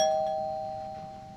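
A single electronic doorbell chime rings out clearly and sustains, its tone fading slowly in a quiet indoor room.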